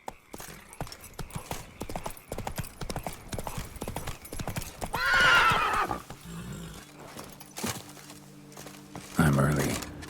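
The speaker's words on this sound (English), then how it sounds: "Whoa there, Roach." Hooves clip-clop steadily at a gallop while a horse neighs loudly in The Witcher 3 video game, with a burst of whinnying near the end and a low musical drone underneath.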